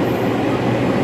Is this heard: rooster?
no